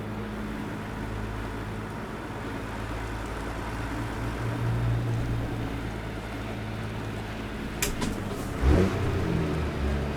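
Hayes Clipper logging truck with a 750-horsepower DD60 engine in American Truck Simulator, a low steady diesel rumble at moderate distance, with a brief rattling burst and surge near the end.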